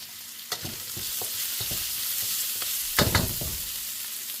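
Bok choy with black pepper stir-fries in a wok, a continuous bright sizzle close up with several sharp scraping tosses of the spatula, no one speaking.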